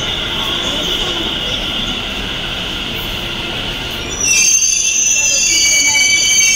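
Metro train pulling into a busy station in Gurgaon's Cyber City, a steady loud rumble of the cars with high-pitched wheel squeal and whine rising near the end, under faint crowd murmur.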